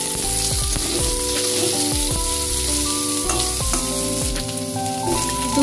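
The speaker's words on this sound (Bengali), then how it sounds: "আলু কিছুটা ভাজা হয়ে গেলে কুচনো পেঁয়াজ দিয়ে দিচ্ছি" Chopped onion and potato strips frying together in oil in a pan, a loud continuous sizzle with occasional stirring scrapes, close up and with no talking.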